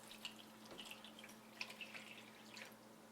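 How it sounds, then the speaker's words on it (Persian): Water is poured into a bread dough mixture for Barbari bread, making faint, close trickling and dripping sounds in a quiet kitchen. "و بعدم آب رو اضافه میکنم، خیلی ساده."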